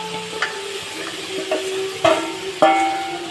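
Goat fat and spice masala frying in a pan, a close sizzle with several sharp scraping stirs and clinks of a spoon against the metal.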